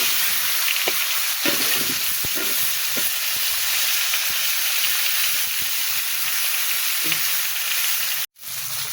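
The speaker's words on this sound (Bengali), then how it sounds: "মাছগুলো ভাজা হয়ে গিয়েছে" Mrigal fish frying in hot oil in a home kitchen, a loud, steady sizzle and hiss that continues throughout, with a few soft clinks and stirring sounds. A brief gap comes near the end.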